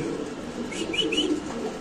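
Pigeons at a loft farm, a female and then a male, let go from the hand onto the ground, with soft cooing and a few chirpy calls over a low steady background.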